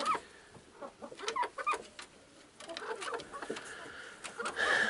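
A White Ray hen clucks in short, irregular bursts close by, with a few sharper calls mixed in and quieter stretches between them.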